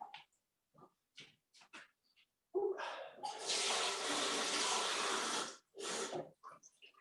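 Water poured from a running tap at home into a glass, a steady gush lasting about three seconds, framed by scattered clinks and handling knocks before and after.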